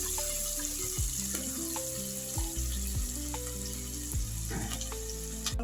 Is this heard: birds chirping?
no